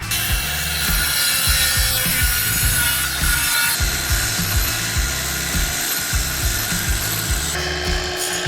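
A hand saw with a new blade cuts through the edge of a wooden door being refitted, steady rhythmic back-and-forth rasping strokes, loud and close.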